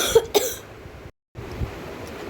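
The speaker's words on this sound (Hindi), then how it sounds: "खांसी भी बहुत हो रही है" A woman with a sore, hoarse throat coughs twice sharply and close in a home kitchen, then only quiet room tone remains.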